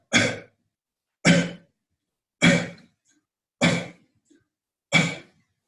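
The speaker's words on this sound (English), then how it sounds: "5 half coughs." Five short, forceful half coughs during a seated breathing exercise, evenly spaced about a second apart, close up, with silence between each.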